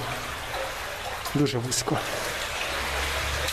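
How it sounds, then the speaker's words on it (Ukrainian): Water rushes steadily through a narrow, rectangular underground river tunnel in the Syrets collector beneath Stetsenko Street, a close, constant hiss that echoes throughout, with a brief spoken phrase in the middle. "Отже, ось це є русло річки підземне."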